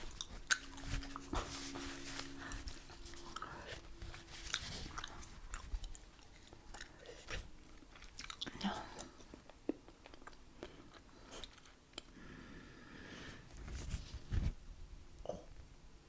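Korean bread gum being chewed close up, with soft wet smacks and irregular crunchy bites and snaps scattered over a quiet background, intermittent and intimate.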